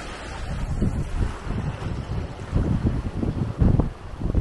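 Ocean waves surging along the Oahu shore in Hawaii, a steady broadband wash with rolling swells and some wind buffeting the microphone, fairly loud and without voices.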